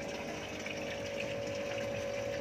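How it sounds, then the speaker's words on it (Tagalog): Small water pump running steadily for a DIY roof shower and pond cooling setup, a constant close mechanical hum with a watery gush, no talk. "yan guys yung pump"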